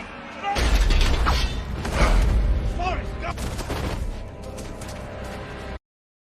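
Bursts of gunfire from vampires shooting at escaping lycans in a film battle scene, loud dense volleys in the first half thinning into scattered shots and mechanical clatter, with a voice heard briefly amid the noise.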